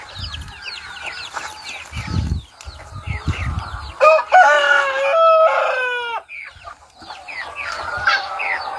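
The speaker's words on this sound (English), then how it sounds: "let's feed these chickens" Native chickens cluck steadily close by at a farm, and a rooster crows loudly in the middle with softer clucking around it.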